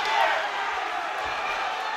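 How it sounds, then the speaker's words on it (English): Crowd roar at an MMA bout during the BCFA Night of Champions 2 event, a broad, steady wash of cheering that swells early and then holds loud and continuous throughout. "The crowd really starting to get behind him here."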